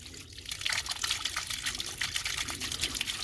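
A water ram pump gurgles and bubbles as air escapes from the water, with a fairly quiet, continuous splashing trickle and irregular bursts of bubbling.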